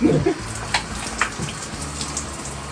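Shower water runs steadily in a home bathroom, a soft continuous spray with faint droplet patter and a few brief knocks, close and alone with no talk.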